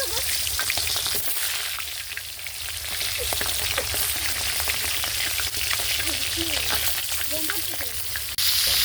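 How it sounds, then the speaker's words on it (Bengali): Marinated chicken pieces frying in hot oil in a wok on a stove, a loud dense continuous sizzle with crackling pops and occasional stirring, close up and without talk. "এখন চুলায় কড়াই বসিয়ে তাতে তেল গরম করে মাংসগুলো ভালো করে ভেজে নেব।"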